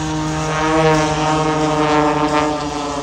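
Pitts aerobatic propeller biplanes fly at the Warbirds Over Wanaka airshow, a loud, steady droning engine and propeller hum with a rich harmonic buzz, passing close overhead.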